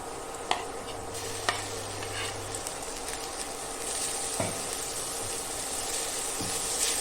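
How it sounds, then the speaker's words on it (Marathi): A paste of chili, ginger and garlic sizzles softly in an appe pan, with a few sharp clinks and scrapes of a spoon stirring it, close and steady, with no talking. "ह्याच्यामध्ये आपण घालूया मिरची आलं आणि लसूणचा ठेचा"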